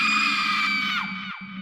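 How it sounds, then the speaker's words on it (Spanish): An eerie, drawn-out wailing scream, La Llorona's cry in the woods of a horror tale, holds a high harmonic tone and then slides downward in pitch, fading as it breaks off. "El grito se repitió más cercano y aterrador."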